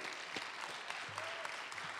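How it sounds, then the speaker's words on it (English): Quiet, steady clapping from an audience at a city council meeting, a brief continuous patter with a few sharper claps. "Join me in giving these young men a big round of applause."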